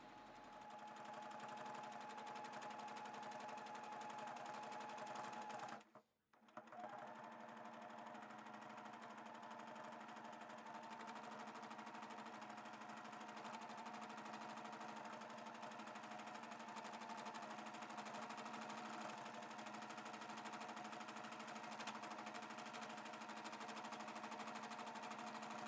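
A sewing machine doing free motion stitching to shade a flower's petals runs as a continuous rapid drone, pausing briefly once before resuming, steady and close.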